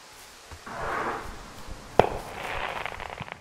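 Fireworks go off in the distance in the forest lookout game Firewatch, soft whooshing launches followed by one sharp, louder bang and a spread of faint crackling.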